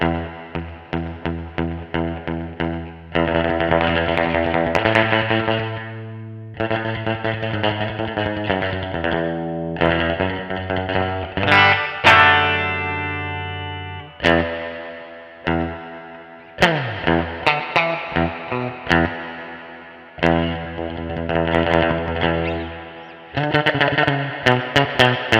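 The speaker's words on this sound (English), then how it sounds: "And spring, based on a Fender, obviously." An electric guitar plays chords and single-note phrases through a Fender-style spring reverb on a NUX MG-300 effects unit, with the reverb mix turned up so the notes trail off in ringing tails between strums.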